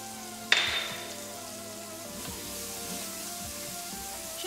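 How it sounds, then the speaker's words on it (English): Shallots and garlic sauté in oil in a Breville fast cooker. A sharp clatter as they go in is followed by a soft, steady sizzle that carries on close by with no voices. "we're just gonna throw things in and sort of saute them"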